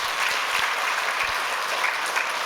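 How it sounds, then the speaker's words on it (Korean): A church congregation applauds during a Sunday service, a continuous, even patter of many hands clapping at moderate level, with a few sharper low thumps scattered through. "한 번 더 박수하겠습니다"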